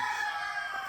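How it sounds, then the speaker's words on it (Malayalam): A chicken sounds briefly and faintly at a home, a short rough clucking call with no talk over it. "ഈ കോഴി എപ്പോഴും കോഴിക്കോണ്ടിരിക്കും"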